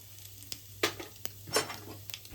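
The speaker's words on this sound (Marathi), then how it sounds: "तर तेल हलकं गरम झालं, याच्यामध्ये मी टाकते जिरं" Cumin seeds dropped into lightly heated oil for a cashew curry give a faint, close sizzle with a few sharp crackling bursts and soft utensil clinks.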